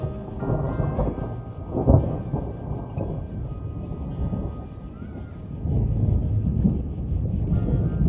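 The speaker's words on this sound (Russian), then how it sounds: "нам было счастье наблюдать гром над могущественной Этной" Thunder rolls over Mount Etna in Sicily, a deep rumble with a stronger clap near the start and another swell later, heard outdoors under wind noise.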